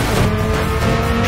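Tires skidding through a drift turn in the driving game Stuntman: Ignition, a loud continuous screech over engine roar that lasts the whole brief moment.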